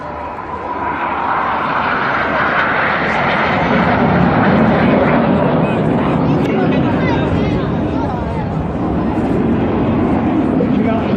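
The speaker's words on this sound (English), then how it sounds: "Reaching out to the front left with some smoke on his red leader of the synchro pair, Lieutenant Steve Morris" Red Arrows jets roar overhead at the Herne Bay airshow, a loud, steady, broad engine rush that swells slightly and holds for the whole stretch, with a faint crowd murmur beneath.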